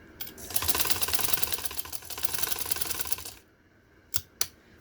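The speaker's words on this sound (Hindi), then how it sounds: "ये मैं सीधी सिलाई लगा लूँ।" A sewing machine runs a straight seam while attaching a trim strip to a garment neckline, giving a fast, steady mechanical rattle for about three seconds, then stopping, followed by two sharp clicks.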